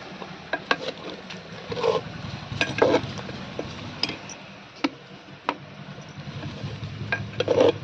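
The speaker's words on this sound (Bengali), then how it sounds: "ছড়িয়ে দিয়ে আমি আরেকবার নেড়ে দিচ্ছি" Spiced mutton being stirred in a pot over a village wood fire, with intermittent scraping and clinking of a utensil against the pot over a low, steady sizzle, spaced irregularly.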